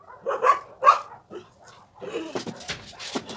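A dog gives a couple of short yelps followed by a rapid, excited string of barks and yips at moderate volume.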